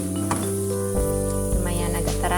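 Crispy corn nuggets frying in hot oil, a continuous loud sizzle with a few clinks of utensils against the pan, close up.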